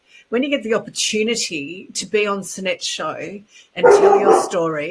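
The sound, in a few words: dog barking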